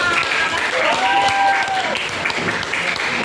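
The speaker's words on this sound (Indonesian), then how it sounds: "Tepuk tangan dulu buat kita semua" Applause from an eighth-grade math class, steady clapping throughout with a bright whistling tone rising and falling in the middle.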